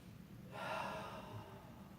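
A single slow, audible breath drawn in and let out during a spinal movement exercise, soft and close, rising in the middle and fading over a quiet background.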